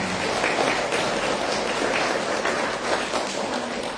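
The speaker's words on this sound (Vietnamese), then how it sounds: "Xin vị cho một tràng pháo tay." Steady, dense applause from a crowd honoring visiting monks at a Vu Lan ceremony in a temple in Strasbourg, France. It is loud and continuous for the full few seconds, with no speech over it.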